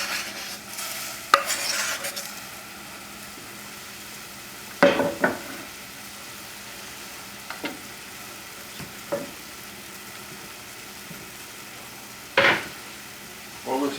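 Chasseur sauce of white wine, tomatoes, shallots and mushrooms reduces in a pan with a quiet steady simmer, broken by a few scattered stirs and utensil scrapes.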